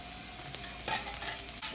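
Chopped Kula onions sizzle quietly in a pan for fried rice cooked aboard a sailboat, a soft steady frying hiss with a few light stirring scrapes.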